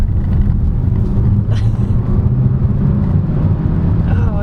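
Changan CS55 Plus compact SUV, a 2023 Luxe trim, accelerating hard: a loud steady engine and road rumble inside the cabin that holds at a constant level throughout, with a brief higher noise partway through.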